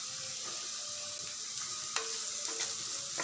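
Chopped onion and capsicum sautéing in a pan for a vegetable curry roll: steady sizzling and hissing with occasional stirring scrapes, close and alone.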